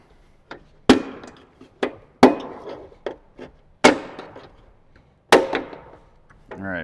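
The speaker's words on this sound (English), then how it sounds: "we're going to grab our plastic panel removal tool and pop those off" A plastic panel removal tool pries off a Jeep Wrangler JK interior panel, producing a series of sharp, close snapping pops of retaining pins releasing, separated by brief pauses and softer scraping.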